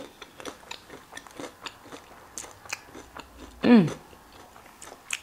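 Crisp crunching bites and chewing of fried chicken tenders sound up close, a series of sharp cracks with one louder crunch near the end.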